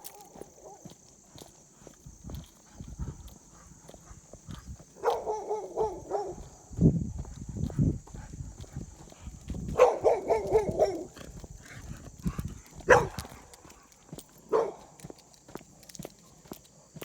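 A dog barks in several loud bursts at moderate distance, separated by pauses, over a faint constant high whine and scattered footsteps.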